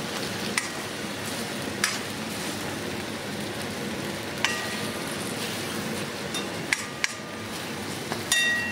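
An egg mixture for egg karam is stirred in a sizzling pan, giving a continuous soft frying hiss with scattered light taps and scrapes of the spoon, and no one talking.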